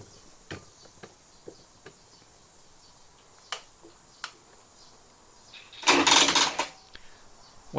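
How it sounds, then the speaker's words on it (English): A motorcycle starter solenoid, hooked to a jump starter without enough current, clicks in and out in sparse, irregular sharp ticks, then gives a brief buzzing, rattling burst against a quiet background. "What you're hearing there is the starter solenoid clicking in and out"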